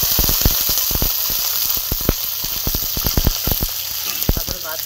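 Peanuts frying in hot oil give a steady sizzle with many sharp crackles and pops close by, no talk over it.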